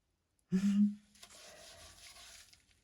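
An old sponge wipes across a surface, giving a brief squeaky rub followed by a softer, drawn-out scrubbing sound, close and quiet.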